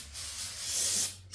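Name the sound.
brake cleaner being sprayed onto cylinder head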